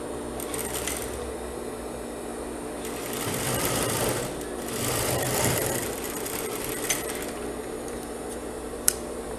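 An electric sewing machine stitches a trouser back pocket in bursts, a rapid whirring hum rising and falling in two or three runs, with faint handling clicks and a sharp tap near the end.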